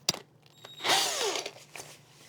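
Power drill at work during a renovation of a 40-year-old RV: a short whirring spin-up that winds down after about half a second, between a few sharp clicks and knocks, close and moderately loud.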